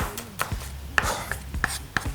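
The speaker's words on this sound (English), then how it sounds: "chopping shallots" A knife chops shallots in a kitchen, with five or six sharp, close cuts at an uneven pace and no other sounds.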